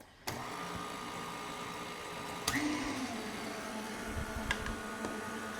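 A stand mixer runs slowly as flour goes into vanilla cake batter: a steady, fairly quiet motor whir that starts abruptly, with a brief clatter partway through and soft bumps near the end.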